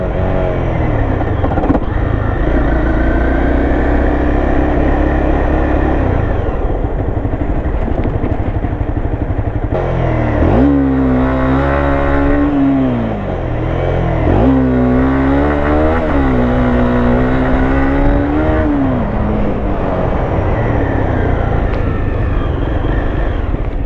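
A motor vehicle engine revs hard while wheelies are being done, a loud, close, continuous roar whose pitch climbs and falls in repeated sweeping surges through the middle section.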